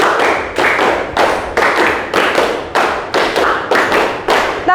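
Rhythmic classroom hand clapping game, a long run of about nine sharp, close claps in a steady repeating pattern, loud and clear with no voices.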